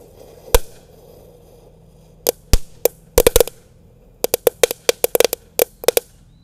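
Small ground firecrackers of the 'crowing rooster' type, set off inside a hole in the ground: a single sharp pop, then irregular bursts of rapid crackling bangs, loud and close.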